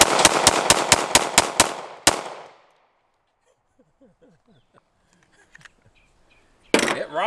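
A 10mm Hi-Point JXP pistol fired at an outdoor shooting session, a rapid string of about eight loud sharp shots, then one more with a ringing tail, near silence, and a final burst of noise.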